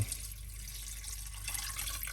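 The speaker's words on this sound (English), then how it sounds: "And now let's add water." Water poured into a slow cooker pot holding chicken liver with seasonings, a steady, close, hissing rush of liquid that continues evenly without pause.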